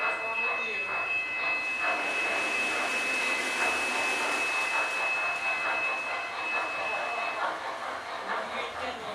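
An HO scale model train runs on an indoor home layout whose track passes through a bathroom, giving a steady, continuous rolling rumble with a thin high whine that holds for most of the stretch.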